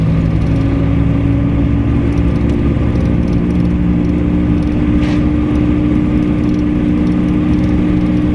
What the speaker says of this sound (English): Oh, what a noise these cars making.